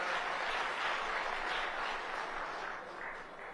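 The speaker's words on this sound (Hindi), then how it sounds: "एक बार जोरदार तालियों के साथ स्वागत, अभिनंदन।" A large crowd gives a sustained round of applause to welcome Haryana's chief minister at a state-level Sain Jayanti festival, dense clapping that stays strong before easing slightly at the end.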